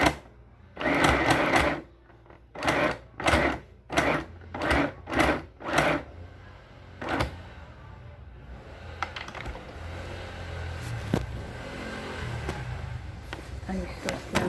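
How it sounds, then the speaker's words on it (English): A sewing machine stitches buttonholes on a blouse placket in short, separate bursts of rapid mechanical chatter, each about half a second long, followed by a quieter stretch of soft handling noise. "I don't like to have accident in this sewing machine."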